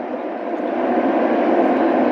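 Steady, loud broadband cabin roar inside an airplane in flight on a journey from Tribhuvan airport in Nepal, a continuous even drone with no voices.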